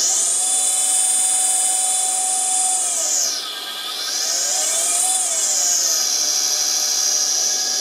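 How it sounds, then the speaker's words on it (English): The spindle of a 3040T CNC machine whines at a high steady pitch, dips briefly in speed and then climbs back, close, loud and continuous with no talking. "Now, if you turn on the spindle,"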